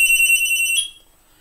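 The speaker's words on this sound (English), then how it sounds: "Ring, ring." An electronic telephone ring from the Phoenix Wright: Ace Attorney video game, a bright, steady high-pitched tone in Phoenix Wright's bedroom that holds for under a second, then cuts off abruptly, leaving a faint quiet tail.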